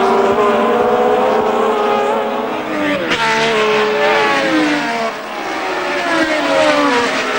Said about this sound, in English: Jackie Ickx from Belgium then leading the British Grand Prix at the end of the first of 80 laps.